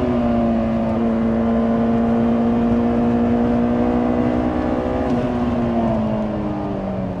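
A Honda S2000 accelerates on track at Brands Hatch, a loud, close in-car engine note climbing steadily in pitch, dipping briefly near the five-second mark and then easing down toward the end.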